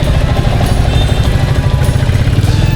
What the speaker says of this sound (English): Karizma ZM. Everyone's dream bike.